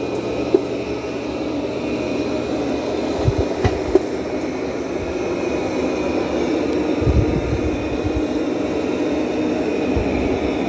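Roborock Qrevo Pro robot vacuum running, a steady whirring hum with a faint high whine and occasional soft bumps, close and continuous.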